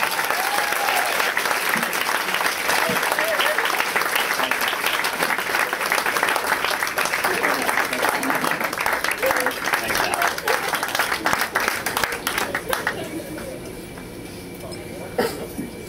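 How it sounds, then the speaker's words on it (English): Sustained, loud audience applause at a wedding reception following a toast, dense clapping from a large crowd with cheering and voices mixed in, tapering off near the end. "Nice round of applause for Sammy."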